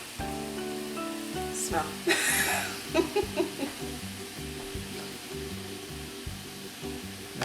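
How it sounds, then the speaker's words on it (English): Meat searing in a pan for pasta sauce makes a soft, steady sizzle under sustained background music, with a brief louder burst of hiss and a short spoken word. "after you get it seared a little bit in the center, you wait, let it sear."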